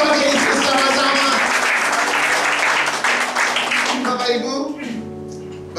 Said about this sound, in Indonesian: Yang setuju, tepuk tangan buat Yesus sama-sama